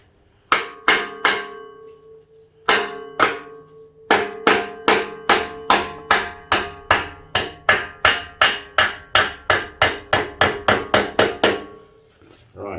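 A hammer drives a bolt through CruiseMaster trailer suspension on an off-road trailer, with about two dozen close, loud metallic blows in a steady rhythm after a few spaced opening strikes.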